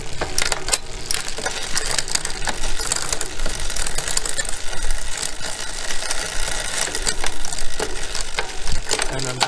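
A road bike's rear derailleur clicks and whirs as the chain runs through the gears during workshop set-up, a busy, close ratcheting chatter of chain and sprockets that keeps going throughout.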